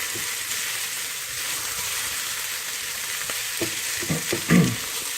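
Onions and garlic frying in a pan give a steady, close sizzle that runs the whole way through, with a few louder stirring clatters and scrapes near the end and no talking.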